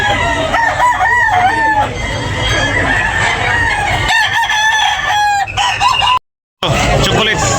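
Roosters at a chicken market crow loudly and repeatedly, their long calls overlapping amid steady crowd noise, with a brief silent gap near the end.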